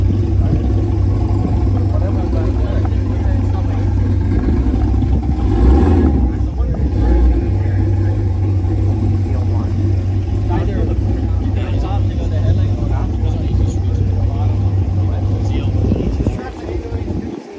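A car engine runs on the street at a Friday night test-and-tune drag event, a loud, sustained drone with surging revs that holds steady and then drops away near the end, with people talking nearby.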